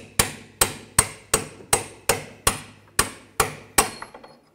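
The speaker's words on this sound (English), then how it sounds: "You can tap the bolt out." A hammer taps a bolt out of the rear wheel knuckle of a 2004–2009 Audi A4 Quattro during a wheel bearing job: about ten sharp metallic strikes, evenly spaced and close, each ringing briefly before the next.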